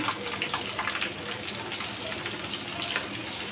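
Beef tikia kebabs made with egg fry in foaming oil, giving a dense, continuous close-up sizzle and crackle that stays loud and steady throughout.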